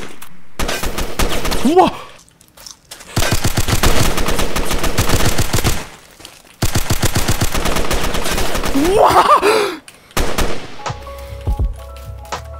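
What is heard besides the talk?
AK gunfire in video game Fallen Survival Roblox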